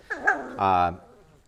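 Great Pyrenees puppies in a new litter give a few short whimpers, then one longer, steady high whine, close by and fairly quiet.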